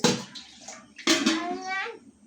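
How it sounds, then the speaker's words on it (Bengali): Water poured from a tap into a kadai (wok-style pan) for cooking pasta, a bright gushing splash in two bursts with a short pause, close by. "কড়াতে জল দিচ্ছি"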